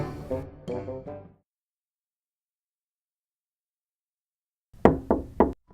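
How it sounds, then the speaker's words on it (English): Knocking on a wooden front door set into a giant hollow tree, heard as two quick clusters of raps near the start and another burst of three firm knocks near the end, separated by silence. "They left their helmets on the wagon and knocked on the door."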